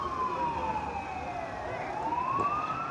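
An old-school police car sounds a wailing siren at the Toronto Santa Claus Parade, its tone sliding steadily down then rising again, moderately close over a steady background of crowd and street noise.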